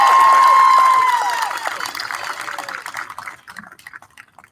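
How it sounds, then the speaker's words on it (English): A graduation crowd applauds a speaker at an outdoor high school ceremony, steady clapping that fades and thins to a few scattered claps, with a sustained tone at the start. "thank goodness for a clap"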